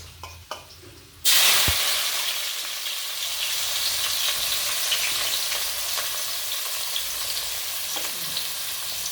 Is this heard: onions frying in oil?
yes